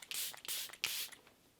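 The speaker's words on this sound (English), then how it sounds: "I'm just gonna spray this all over" Charlotte Tilbury Airbrush Flawless Setting Spray misted onto a face in several quick hissing pumps, close and crisp, each burst a short airy spritz with brief pauses between.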